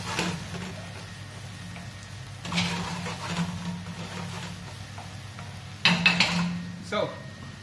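Onions and chopped celery get stirred in a pan with a wooden spoon, with soft scraping and a few clattering knocks of wood against the pan, occasional louder bursts over a faint background hum.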